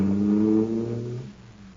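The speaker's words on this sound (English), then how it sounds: "that cosmic surface car is really roaring" A supercharged car engine roars with a deep, sustained harmonic drone that holds steady and then fades away over a couple of seconds.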